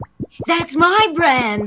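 Sacramento tomato juice poured out in thick, healthy plops: a few deep, rounded plops up close, followed by a voice speaking over the continuing pulsing pour.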